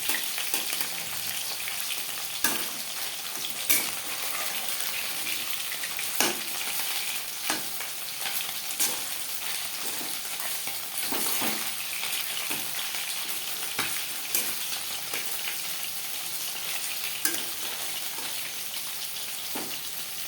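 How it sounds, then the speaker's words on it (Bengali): Batter-coated chicken pakoras fry in hot oil with a continuous close crackling sizzle, punctuated every few seconds by sharp clicks of a utensil as they are flipped and stirred. "উল্টে পাল্টে কিস্তি করে ভেজে নেব"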